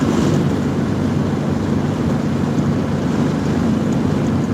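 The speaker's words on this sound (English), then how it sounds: "I'm getting T-boned by the wind here." A strong wind blows out of the southeast while travelling, making a loud, constant buffeting roar with no breaks or talking.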